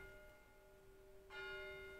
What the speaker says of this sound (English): That church bells start ringing.